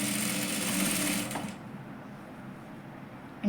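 A sewing machine stitches a katori blouse with a steady, close, whirring run of rapid stitches that stops abruptly partway through, leaving low room quiet.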